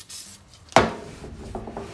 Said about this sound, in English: just a bit of brake cleaner, and we're just going to clean the brake friction area